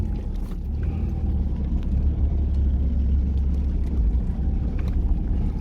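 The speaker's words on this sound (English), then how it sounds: "I'm now doing some proper 4-wheel driving" A four-wheel drive vehicle in low range crawls along a bermed outback dirt track, giving a constant low engine rumble with rattles and bumps throughout.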